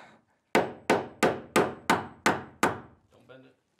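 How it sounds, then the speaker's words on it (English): A palm nailer drives a nail into wood while roughing in electrical work in a converted shed, giving seven rapid, sharp, evenly spaced close impacts followed by a softer final tap. "Got your little palm nailer, man. You should be like palm nailing."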